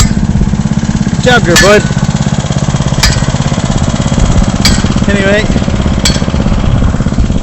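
A lawn mower engine runs loud and close, holding a steady droning note throughout while someone talks briefly over it.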